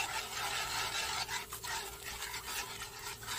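A spoon stirs a turmeric milk mixture, giving a soft, continuous scraping and swishing close by with a few brief pauses in the motion.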